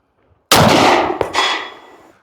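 A single loud shotgun blast from a Chiappa M6 survival gun fitted with a 12 gauge adapter, a sharp close report with a brief echoing tail that fades over about a second and a half, outdoors.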